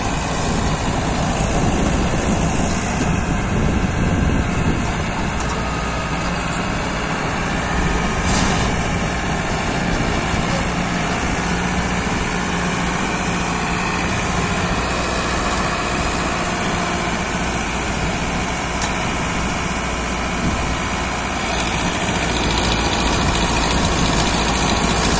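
A Powertrac Euro 60 tractor engine idles steadily at close range, a continuous low diesel rumble with vibration and no change in pace for the whole stretch.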